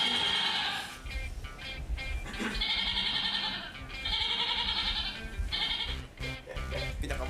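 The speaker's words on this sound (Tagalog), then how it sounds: "Akala ko may kambing talaga." A goat bleats loudly and close by in long, wavering calls, several in a row with short gaps between them.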